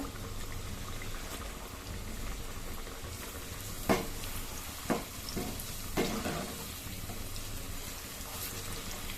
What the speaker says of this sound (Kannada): ಮುಕ್ಕಾಲು ಅಂಶದಷ್ಟಾದರೂ ಇದು ಫ್ರೈ ಮಾಡ್ಕೊಳ್ಬೇಕು